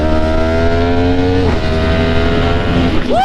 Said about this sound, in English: I definitely love the sound of this bike.